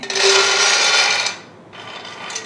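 Raw peanuts are stirred in a heated pan over a medium flame, making a loud, dry rasping scrape that continues for just over a second. It then drops to a softer rustle as the nuts shift, with no talking.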